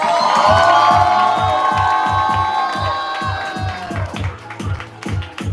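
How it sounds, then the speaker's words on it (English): A crowd at a poetry slam cheers, whoops and claps loudly, with rhythmic stomping or beats underneath, a sustained roar that eases slightly and then swells again near the end. "Make all the noise for Black Swan!"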